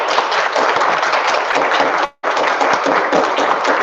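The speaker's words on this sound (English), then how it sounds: "Let's give a round of applause to our fourth graders." Dense clapping from a school audience for the fourth-grade spelling bee finalists, a loud continuous patter that cuts out briefly partway through and then resumes just as strong.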